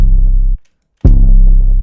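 A loud, booming 808 bass beat plays without master EQ, heavy low-end sustained notes that stop abruptly for about half a second, then resume with a sharp attack.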